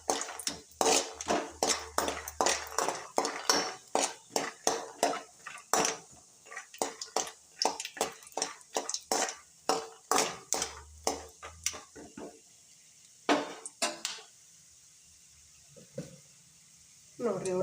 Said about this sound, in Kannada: ಈಗ ಎಣ್ಣೆ ಕಾದೈತಿ. ಒಂದು ಸ್ವಲ್ಪ ಶೇಂಗಾ ಕಾಳು ಇನ್ನೊಂದು ಸ್ವಲ್ಪ ಕೈ ಆಡ್ಕೋಬೇಕು ರೀ.